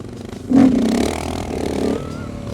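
A KTM 690 Supermoto motorcycle engine revs hard and holds a loud, sustained drone for about two seconds while a rider works on lifting a wheelie, with scraping clatter underneath.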